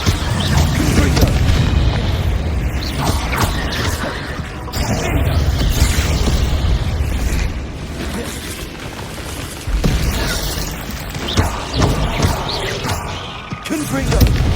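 Loud booming blasts of the Confringo fire spell in Hogwarts Legacy, repeated heavy explosions mixed with combat noise, and a voice shouting among them.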